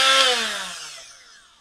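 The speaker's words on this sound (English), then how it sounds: "grindstone. Again, not the power of a full 4-inch or bigger angle grinder, mains powered or bigger battery powered" A small Parkside cordless mini grindstone spins down, its high whine falling steadily in pitch and fading away over under two seconds, heard alone without talk.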